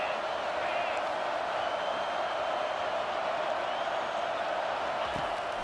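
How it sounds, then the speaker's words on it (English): A home crowd in a college football video game roars in a steady, sustained wash of cheering that stays at an even level throughout, with no single peak standing out. "Man, this crowd really affecting the football game."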